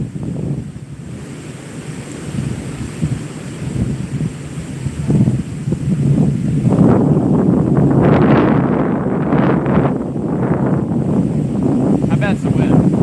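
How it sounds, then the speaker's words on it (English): Gusty east wind buffets the microphone outdoors on a fishing outing, a steady low roar that swells louder partway through and stays heavy to the end, with surf-like rushing and no clear talk. "I bet it's the wind"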